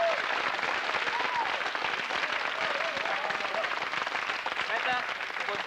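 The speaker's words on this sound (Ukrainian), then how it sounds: "Аплодисменты!" A TV game show studio audience breaks into sustained applause, dense, loud clapping that carries steadily for several seconds, with a voice briefly heard over it.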